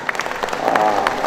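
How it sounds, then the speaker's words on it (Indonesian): Scattered clapping from an audience at an Indonesian government gathering, sparse individual claps over a murmuring room with faint voices underneath, brief and uneven. "Tepuk tangan semuanya."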